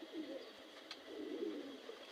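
A pigeon coos softly and low, close by in a quiet setting, its murmuring calls rising and falling over about two seconds.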